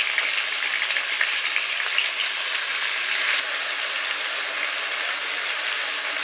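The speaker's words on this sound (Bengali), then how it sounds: "একটু তেলের মধ্যে নেড়ে নিতে হবে" Mango pieces for a jaggery mango pickle fry in oil in an uncovered wok, giving a steady, close, loud sizzle that runs unbroken with no voices.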